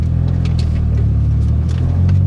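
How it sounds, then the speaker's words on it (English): A 2008 Honda Civic FA1 on Race Land coilovers cruises with a steady low engine and road rumble, close and continuous, with light bumps and rattles from the stiff suspension. "now I'm gonna show you guys how, what it looks like to drive on race land coilovers"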